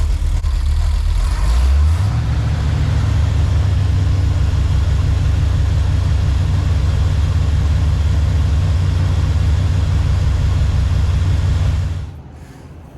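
A 1984 Chevy Silverado with a 350 engine cranks and catches, then runs at a loud, steady, throaty idle close by for about ten seconds before abruptly cutting off.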